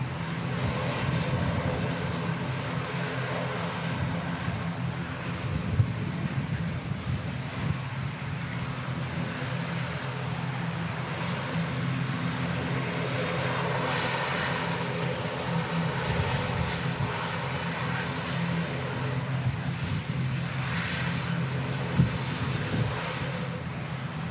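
Aircraft taxiing at Manchester Airport on a busy, gusty day, a steady broadband engine drone holding at a moderate distance throughout with slight swells, no voices.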